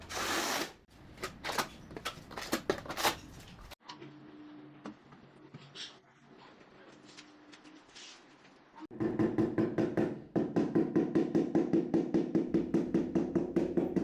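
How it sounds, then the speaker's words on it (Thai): Ceramic tiles bedded in tile adhesive while laying tiles for a sink are tapped to level them: a fast, even run of close, hollow knocks after scattered quieter taps and scraping. "รีดปูนกาวแล้วก็เอากระเบื้องมาวางได้เลยครับ เคาะเคาะให้มันได้แนวได้ระดับ"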